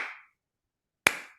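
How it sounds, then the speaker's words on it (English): Two slow, deliberate hand claps about a second apart, each crisp and sharp with a short decay, standing alone in otherwise near silence. "So I got slow clapped by a middle school kid."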